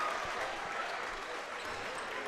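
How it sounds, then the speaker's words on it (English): A crowd at a Class 4A state basketball tournament game in Morrilton roars for the Warriors in a broad, steady wash of cheering and clapping, with faint ball bounces in the background. "Listen to that crowd for the Warriors."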